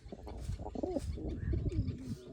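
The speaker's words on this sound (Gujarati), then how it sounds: "એ આપણા કબૂતર છે" Soft, low pigeon coos repeat in short rolling phrases, close by, with no talking.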